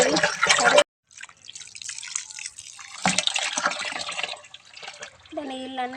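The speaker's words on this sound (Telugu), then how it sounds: "నీళ్ళు పడుతున్నా డ్రమ్ము కడిగి." Water pouring into a washed drum, a rushing splashing fill that cuts off abruptly, resumes and carries on unevenly, with a voice heard over it near the end.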